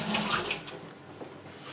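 Water splashing briefly as a knife is wetted between cuts while slicing homemade sushi rolls, a soft close trickle that fades out.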